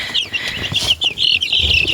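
Dominant breed chickens cluck and flap their wings nearby in a coop, with busy high squawks and chirps over soft flutters and scuffling.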